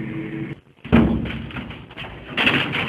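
A door gives a single dull thump that breaks a brief silence, followed by a low rumble of indoor background noise.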